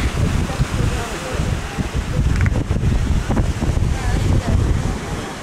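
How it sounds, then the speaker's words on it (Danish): Sea breeze buffets the microphone on a high lookout above the beach at Tulum, a steady rushing wind mixed with distant surf, loud and continuous throughout. "Og heroppe, heldigvis, er der meget mere brise"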